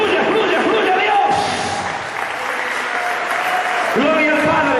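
Church congregation at a revival congress applauding steadily, a dense wash of clapping from a large crowd, with voices and shouts mixed over it and a brief swell near the end.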